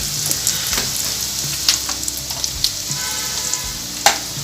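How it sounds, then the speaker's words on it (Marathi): Carrots are stir-fried in a pan with a continuous close sizzle, broken by a string of sharp scraping and clattering stirs against the metal, with no voices present. "थोडं परतवून घेऊया सर्व."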